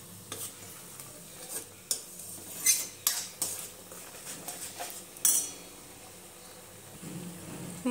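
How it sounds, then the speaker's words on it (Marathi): A spoon stirs drumstick masala roasting in oil in a pan, giving repeated scraping and metallic clinks against the pan over a faint sizzle, close and with no talking. "याला छान तेल पूर्णपणे मोकळं होईस्तोवर भाजून घेऊया।"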